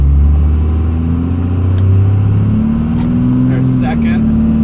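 A 1996 Cummins truck engine drones close up, its pitch rising and falling as it shifts through the gears, with a few brief clicks near the end.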